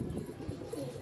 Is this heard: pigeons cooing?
yes